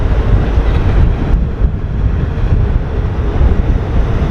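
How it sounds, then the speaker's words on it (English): A train rumbles past on rails in Las Vegas, Nevada, a loud, close, continuous low roar mixed with wind buffeting the microphone, no speech. "That's the train that we took."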